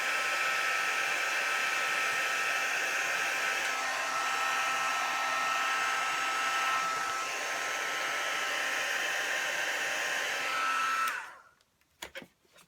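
A hair dryer blows steadily and loudly over a painting, a constant whirring roar for about eleven seconds before it switches off, leaving a few faint knocks.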